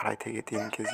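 Tiger breed parent hens sit laying on a poultry farm, clucking in short repeated bursts close by while a person speaks briefly.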